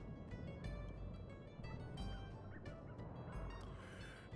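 Calls from the giant eagles in the Sly 2: Band of Thieves video game, a run of loud, harsh bird cries repeating over steady in-game background noise, with no talking.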